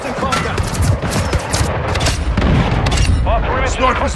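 Airstrike explosions and heavy gunfire in the combat video game Intervention, a dense barrage of booms and bursts running throughout, loud and continuous, with radio-style voices talking over the battle.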